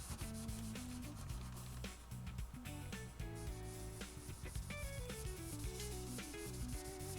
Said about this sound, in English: You have to scratch the previous dry layer up to get a mechanical bond with the new fresh poly.